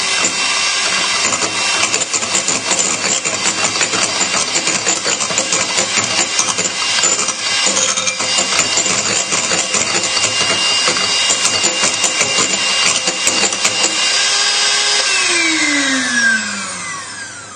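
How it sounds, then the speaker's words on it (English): Lemon curd souffle mixture whisked to stiff peaks with an electric mixer, a loud, steady whirring drone with metallic rattle that runs continuously, then winds down in pitch at the end. "And then whisk that in."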